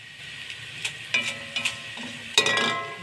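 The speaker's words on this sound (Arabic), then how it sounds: "هحمر بقى في الشعريه دي كويس" Vermicelli frying in hot oil for Egyptian koshari, a close, steady sizzle with a few sharper crackles and stirring clatters that swell near the end, no talking.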